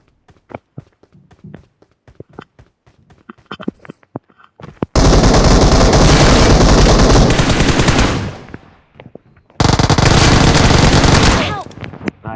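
Gunfire in the mobile shooter PUBG Mobile: quiet scattered taps and steps lead into two loud, dense bursts of automatic fire, the first lasting about three seconds and the second about two.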